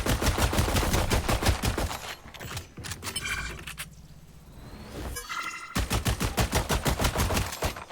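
Rapid bursts of gunfire crackle in a tactical shooter game match, loud and close, with a lull of quieter scuffs and clicks mid-way before another sustained string of shots.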